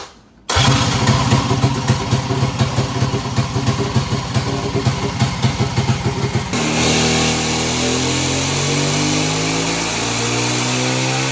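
A land speed racing motorcycle engine fires up and revs hard in a rapid pulsing roar, then settles into a loud sustained high idle, close and without voices.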